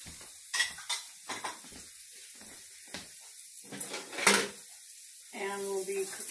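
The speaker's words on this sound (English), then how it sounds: "So now I'm going to saute some onions and some garlic." Onions and garlic are sautéed in rendered bacon fat in a pan, with close clanks and scrapes of a utensil against the pan in scattered bursts and a soft sizzle rising toward the end.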